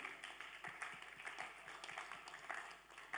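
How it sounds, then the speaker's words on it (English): A congregation in a church gives a clap offering: a faint, distant patter of many hands clapping together, with a few rhythmic beats, heard quietly in a roomy hall. "Give it a clap offering"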